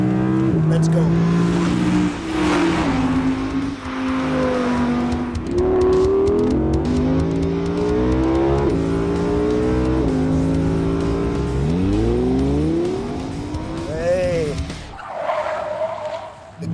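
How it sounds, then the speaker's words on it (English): A 2017 Audi R8 with a high-revving 610-horsepower V10 engine accelerates hard, its loud note climbing through gears with brief drops at shifts, tires squealing near the end. "is the high revving V10 engine"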